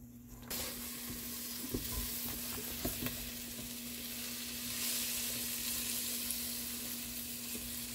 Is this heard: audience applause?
no